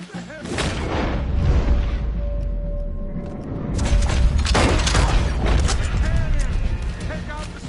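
Loud booming cannon and gunfire blasts ring out in a video game battle, with heavy repeated explosive thuds and shouting voices over the mix.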